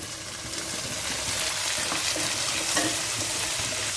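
Chopped tomatoes, onions, ginger and cashews sauté in a hot pan for an oil-braised brinjal dish, giving a steady, close sizzle and crackle that swells slightly as the mixture is stirred, with no voices.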